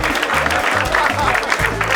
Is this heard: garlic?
no